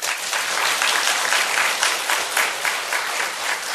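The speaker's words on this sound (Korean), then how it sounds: "박수." A church congregation at a sermon applauds in a thick, sustained wave of clapping that stays loud and even throughout, with faint pulsing swells.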